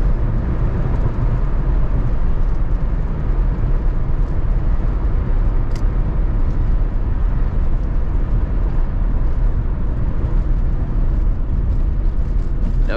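A 1990 Chevrolet Corvette is driven on the road, heard from inside as a steady, loud broadband rumble of engine and road noise that stays constant throughout.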